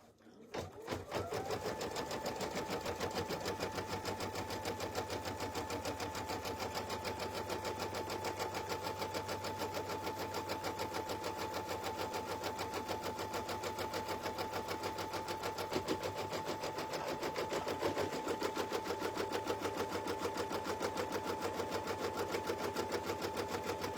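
An embroidery machine runs placement stitches straight onto stabilizer, a fast, even mechanical whir and rapid needle chatter holding steady and close for the whole stretch.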